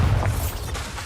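A Bombarda blast spell explodes in a cave in the Hogwarts Legacy video game, a loud booming burst that opens the moment and rumbles on briefly.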